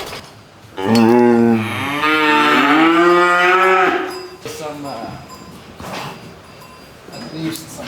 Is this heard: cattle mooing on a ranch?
yes